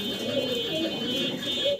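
Pigeons at a Bangladeshi pigeon seller's coo in a short, soft murmuring burst, close by with a steady background hum and no talking.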